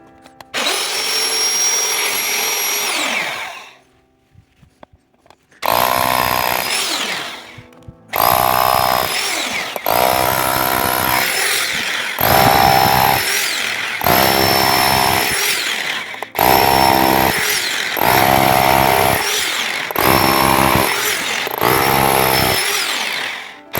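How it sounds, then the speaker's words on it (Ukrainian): A power drill fitted with a concrete bit bores drainage holes in a series of about nine loud, close bursts, each lasting a second or two and separated by short pauses, with a longer gap near the start. "сверлим отвори для дренажу. Це сверло по бетону."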